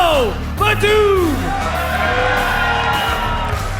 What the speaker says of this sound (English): Listen to the crowd. They were a little bit mixed out there.